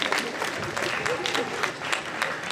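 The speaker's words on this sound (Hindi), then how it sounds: "अरे तालियां बजाओ" A crowd claps steadily at a Christmas gathering and annual program, the applause sustained and moderately loud, with voices mixed in underneath.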